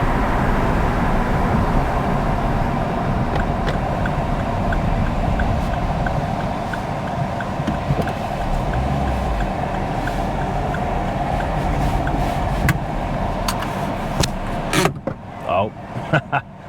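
A Vauxhall Corsa pulls over into a small lay-by: a steady engine and road drone that eases off toward the end, followed by a few sharp clicks and knocks as the car settles to a stop.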